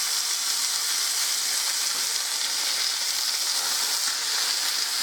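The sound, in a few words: meat searing in a frying pan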